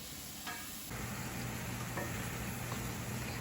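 Chopped leeks, celery, garlic and onion hit a hot pan and settle into a steady, close sizzle as they sweat, with faint stirring and no talk.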